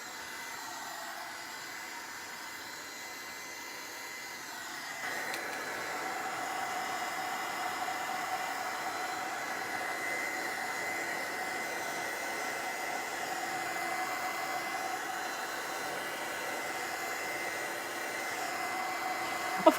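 A heat tool blows steadily to dry modeling paste on a winter decor piece, a continuous airy whoosh that grows louder after a few seconds and holds at an even level, with no talk.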